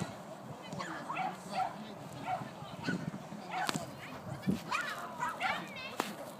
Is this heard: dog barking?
yes